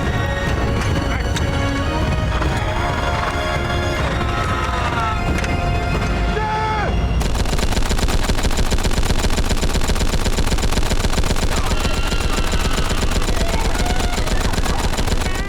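Rare guns built for film work, two made a year by a single craftsman, fired in long rapid bursts: loud, dense, continuous automatic fire with sharp ringing reports, growing tighter and more uniform midway through.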